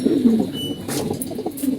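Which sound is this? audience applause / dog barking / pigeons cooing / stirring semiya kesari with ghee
pigeons cooing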